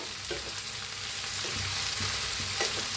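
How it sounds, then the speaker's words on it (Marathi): Chopped cabbage stirred as it fries in a pan, a steady broadband sizzle with soft scraping stirs every second or so, close and continuous, no voices. "आता कोबी कापून घेतलेला घालून घेऊया हलवून घेऊया"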